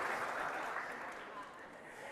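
A church congregation claps together in a brief, dense burst of applause, steady and moderately loud, with voices mixed in underneath.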